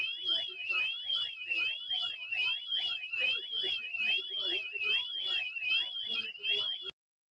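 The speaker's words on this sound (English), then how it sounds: "I fixed the alarm. Someone set it off." An electronic alarm whoops in a fast warbling siren pattern, cycling steadily for about seven seconds with a pulsing beat underneath and muffled voices in the background, then cuts off abruptly.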